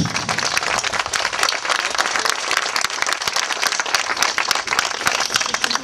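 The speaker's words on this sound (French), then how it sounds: "Je vous demande de l'applaudir pour son travail." A crowd gathered outdoors for the inauguration of a town square claps steadily, a moderately loud, even wash of applause lasting several seconds with no clear voices over it.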